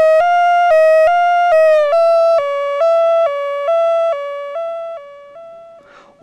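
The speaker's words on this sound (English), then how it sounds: "the police siren would frighten them away" A loud electronic two-tone siren steps up and down in pitch repeatedly, each step a clean buzzy tone, gradually descending and fading toward the end.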